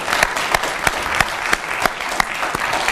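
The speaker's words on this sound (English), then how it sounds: "Let's give them a warm round of applause." Audience applause at a university symposium after a panel, a full wash of clapping with a few sharp, louder claps standing out close by at irregular intervals.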